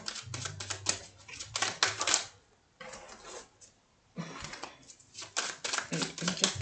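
Tarot cards are shuffled and drawn in bursts of crisp, rapid riffling and flicking separated by short pauses, close and fairly quiet, with a voice talking between the bursts.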